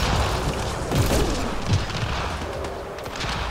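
Missile explosions in the Apex Legends video game, a dense run of booming, gunfire-like blasts with a couple of heavier hits, close and loud against a steady roar of game noise.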